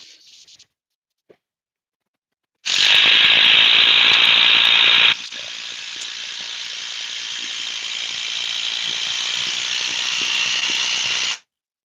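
A cordless drill drives a large screw in a Milwaukee versus DeWalt comparison. A loud steady motor whine runs for about two seconds, then drops to a lower, strained drone that keeps going for several more seconds before it stops abruptly, with no talking.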